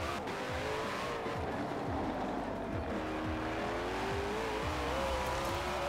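A Koenigsegg car spins its wheels in Forza Horizon 4, the engine wailing with rising and falling pitch over a constant squeal and screech of tires, loud and unbroken.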